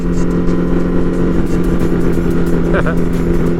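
Several motorcycles drive past at a bike night, their engines a loud, close, steady droning rumble with a strong humming tone, joined by a brief rising rev and background chatter.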